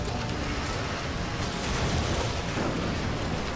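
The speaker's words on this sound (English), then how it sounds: "What with all these explosions and bullets hitting you?" Explosions and gunfire in the video game Resident Evil 5, a dense continuous rumble of blasts and bursts filling the whole stretch with no quiet gaps, loud and close.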